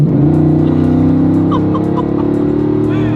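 An 8,000-pound tank with a 500-horsepower engine pulls out onto a road, its engine a loud, steady low rumble with a layered throbbing drone throughout and brief higher whines, with no talking.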